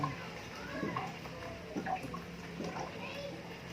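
Hot water pours and splashes into a glass or pitcher for calamansi juice, a soft gurgling stream under a voice and background chatter of children.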